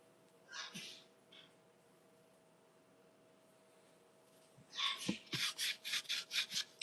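Cloth rubbing back and forth over an old wooden skateboard deck, a 1990 Powell-Peralta Tony Hawk medallion, to wipe off WD-40, with a brief early burst, then a rapid run of quiet, close strokes.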